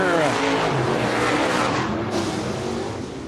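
Race cars roar around a dirt speedway oval in Baker, Florida, as the field goes through turns three and four. The engine noise is loud and steady with a roaring, revving wash, and an announcer talks over it.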